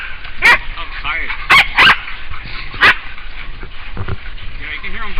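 Hunting dogs from a hog-hunting pack in Hawaii let out loud, separate barks in a loose, irregular pattern, with fainter yips and whimpers in between, over a continuous outdoor background.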